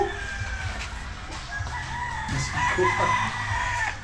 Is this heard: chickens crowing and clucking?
yes